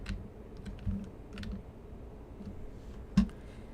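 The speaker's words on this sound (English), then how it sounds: "this is when I hit the up arrow key now" Computer keyboard key presses, a sparse run of soft clicks and taps at irregular intervals, ending with one sharper, louder keystroke, heard alone without talk.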